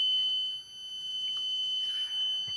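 An electronic buzzer sounds a steady high-pitched continuous tone, faint but sustained throughout, with no one speaking.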